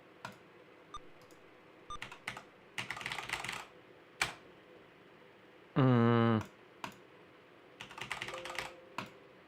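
Computer keyboard keys clack in scattered bursts and single taps, close and fairly quiet, with a short loud buzzing tone breaking in midway.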